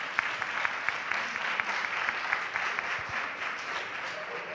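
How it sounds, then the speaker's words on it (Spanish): An audience applauds at a talk on sign language interpretation in artistic settings: steady, fairly even clapping throughout, with faint voices blending in underneath. "un aplauso para él"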